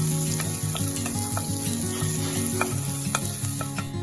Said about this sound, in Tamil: 1/2 கப் சின்ன வெங்காயம் சின்னதாக கட் பண்ணி கொஞ்சம் நேரம் வதக்கலாம்